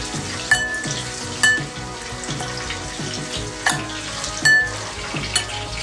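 A salted mixture gets stirred in a hot pan, sizzling steadily. Several sharp scraping strokes of the utensil stand out over the constant frying hiss, and no one speaks.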